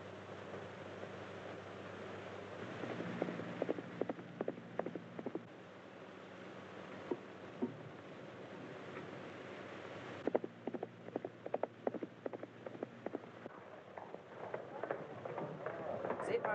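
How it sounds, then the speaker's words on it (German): Faint hoofbeats of a horse galloping, rapid irregular thuds under wind and low rumbling ambience, growing a bit denser toward the end. "Das ist doch Opas Pferd, nicht wahr?"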